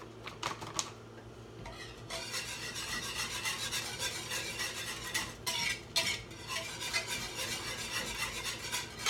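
A utensil stirs brown rice flour into boiling gravy in a pot, a continuous close scraping and rubbing with a few sharp clicks against the pan and no talking.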